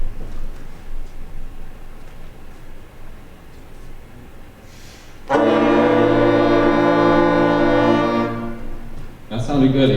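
A school band sounds its first note together on wind instruments, a loud sustained chord with many voices, slightly uneven in pitch, entering after room murmur, holding several seconds, fading, then briefly restarting.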